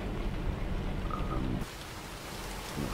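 Steady rain hissing in American Truck Simulator while driving a truck through Mexico, a constant broadband wash that dips slightly in level partway through and continues evenly to the end, with no talking.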